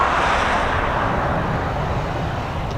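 An airliner on approach to Dublin Airport passes low overhead, a loud broadband jet roar filling the air and fading only slightly.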